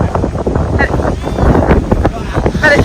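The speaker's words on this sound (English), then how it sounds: "it's really windy" Strong wind buffets the microphone steadily at an outdoor A&P show in Christchurch, a loud continuous rumble with gusts, while voices talk over it.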